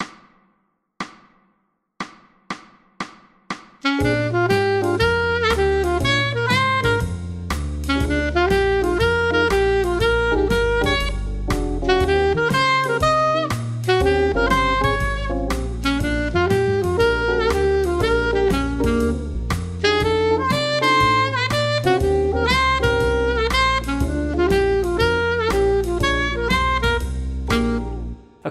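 A saxophone plays a major blues scale study, opening with a few short separated notes before launching into a long, continuous run of rapid lines over a steady backing, loud and close, with no voices.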